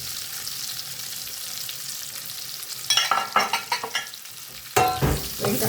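Onions going into a hot pan and frying, a steady low sizzle that jumps into louder bursts of crackle and stirring scrapes partway through, close and with no voices.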